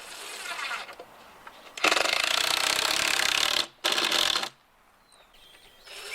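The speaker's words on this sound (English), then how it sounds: "now I'm going to go ahead and put screws through the top" A power drill drives screws through a wooden top into the legs of a hexagon stand for a 55-gallon drum, heard as two sustained close whirring bursts with a short gap between them, framed by quieter handling noise.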